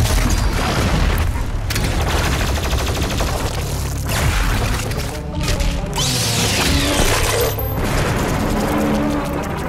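Heat blast and frag grenade explosions in DOOM Eternal come as a dense, continuous roar of booms, blasts and crashes, loud and close throughout, mixed with pounding game music and no clear voices.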